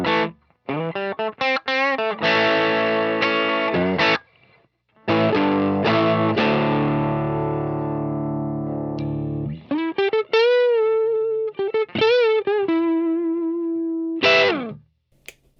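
Electric guitar played through a Nux Ace of Tone dual overdrive's Morningstar Bluesbreaker-style side, with low-gain, transparent drive on single notes, bends and vibrato, a ringing chord, and some sustained lead lines, close and clear with no talking.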